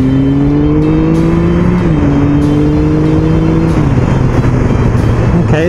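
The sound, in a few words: motorcycle engine accelerating while riding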